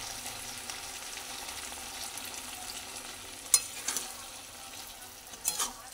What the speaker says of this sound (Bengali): নাড়াচাড়া করতে করতে অনেকটাই সেদ্ধ হয়ে গেছে।